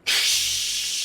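Loud, steady geyser-like steam hiss that bursts in sharply and holds at near-constant level, close and alone with no voices.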